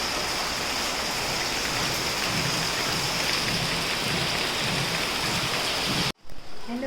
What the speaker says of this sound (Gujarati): એટલે ખૂબ જ વરસાદ છે અત્યારે.